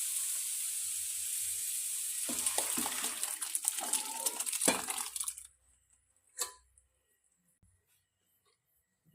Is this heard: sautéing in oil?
yes